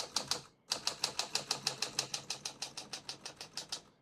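Typing on a 1948 Smith-Corona Sterling portable typewriter: a brief pause after the first strokes, then a fast, steady run of crisp metallic keystrokes, close and clear with no talk.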